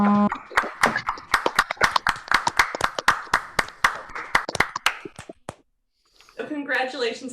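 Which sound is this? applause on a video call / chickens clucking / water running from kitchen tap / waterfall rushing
applause on a video call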